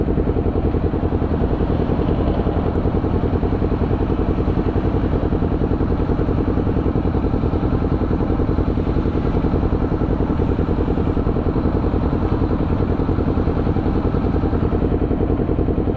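A 400cc motorcycle with an aftermarket exhaust pipe runs steadily, a loud, close, continuous engine drone with a fast even pulsing throb that holds unchanged throughout.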